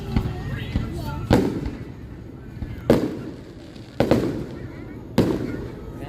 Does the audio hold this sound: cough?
no